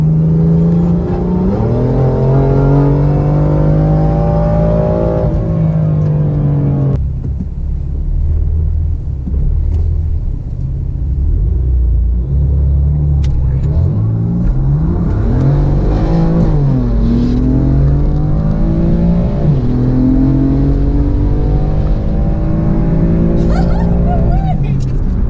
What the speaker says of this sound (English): That run did pretty well, but Brian didn't turn his traction control